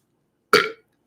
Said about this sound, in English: I burped on command.